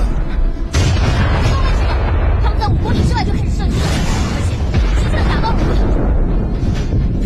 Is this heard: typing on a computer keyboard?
no